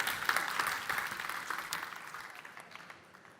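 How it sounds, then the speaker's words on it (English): An audience at a trade fair stage applauds as a speaker comes up, a crowd of clapping hands at moderate distance that gradually tapers and fades out. "Big applause for Dominik, ladies and gentlemen."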